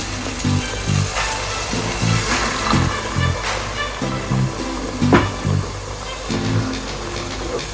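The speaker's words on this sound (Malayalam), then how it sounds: "ഇനി ഇതിലേക്ക് നമ്മൾ എടുത്തു വെച്ചിരിക്കുന്ന 1/2 കപ്പ് ചൂടുവെള്ളം ഒഴിച്ചു കൊടുക്കാം." Half a cup of hot water is poured into a pan of egg roast masala, giving a steady sizzle and bubbling throughout, with soft tonal sounds in the background.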